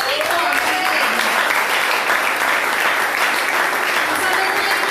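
A church congregation claps loudly and steadily for several seconds during a service, a dense wash of applause filling the space.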